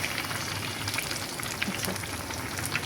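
Gram flour batter deep frying in hot oil, a steady dense crackling sizzle with scattered pops, close and moderately loud, continuing without a break and with no voices.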